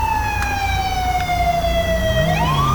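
Wailing police car siren from the video game GTA 5 with the LSPDFR mod, a steady loud electronic tone sliding slowly down in pitch before jumping back up near the end, with an engine rumbling underneath.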